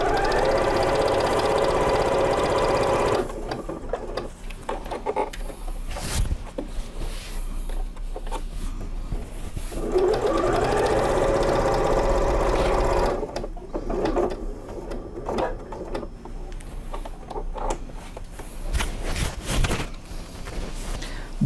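A sewing machine stitches binding onto a patchwork quilt, running in a loud steady burst at the start and again midway, with quieter pauses between the runs.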